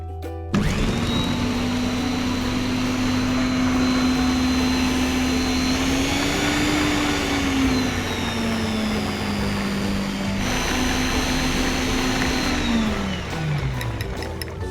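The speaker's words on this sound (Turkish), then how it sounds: "Şimdi meyvelerimizi mikserden geçirebiliriz." An electric blender whirs steadily as it purees fruit, loud and close, holding a constant pitch for about twelve seconds before a brief dip and then winding down at the end.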